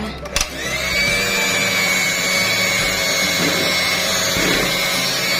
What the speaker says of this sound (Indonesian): Kita mixer dengan kecepatan yang paling rendah ya.